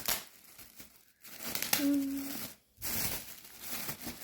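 Packaging crinkling close by while baby items are unpacked, soft rustles in uneven bursts with brief pauses, plus a short tonal squeak.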